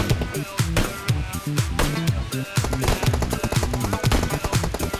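Rapid PUBG Mobile gunfire during a snap-shooting accuracy drill: fast, loud bursts of sharp shots in uneven clusters, layered over a steady, tonal game soundtrack.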